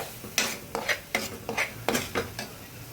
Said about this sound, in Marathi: तोपर्यंत हा मी मसाला छान भाजून घेते.